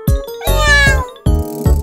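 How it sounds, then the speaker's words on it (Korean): A cat meowing inside a Korean children's song gives four loud, drawn-out mews in quick succession, close and clear, with a faint tinkle beside them. "야옹이가 어디 있을까?"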